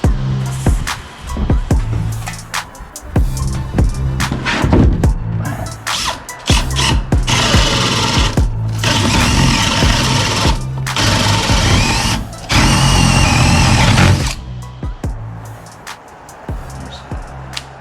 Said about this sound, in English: So I'll go drill those holes now.